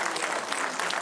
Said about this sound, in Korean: 이무철 애국지사님께 다시 한번 큰 박수 부탁드립니다.